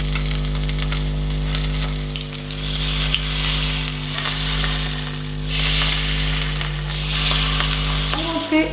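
Vegetable tempura sizzles and crackles steadily in hot frying oil, a close, continuous bubbling hiss that swells and eases in waves, with a low constant hum underneath.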